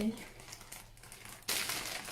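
Plastic crinkling close by, a soft rustle that swells into a loud, continuous crackle near the end, with a brief voice at the start.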